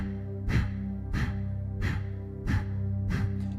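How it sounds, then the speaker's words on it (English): Kapalabhati breath of fire: five sharp, forceful nasal exhales pumped from the belly, spaced about every two-thirds of a second, close and fairly loud with a steady tonal hum underneath. "Kapalabhati, it's rapid exhales through the nose"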